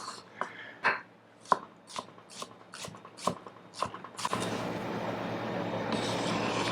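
A knife chops the white part of a green onion on a cutting board in a steady series of about a dozen sharp, close taps, followed by a broad rushing noise.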